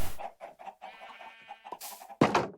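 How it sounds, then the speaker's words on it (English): Chickens in the Minecraft video game give short, repeated clucks at moderate level, with a few other game sounds and a louder burst near the end. "But as far as killing the chickens goes,"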